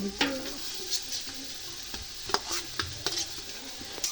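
Chicken, cauliflower and cabbage stir-fried for fried rice, sizzling steadily in the pan close by, with irregular scrapes and knocks as the mix is stirred.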